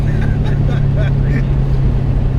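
Modified 500 bhp Subaru Forester with four-wheel drive accelerating hard, a loud steady engine drone heard from inside the cabin, with people talking over it.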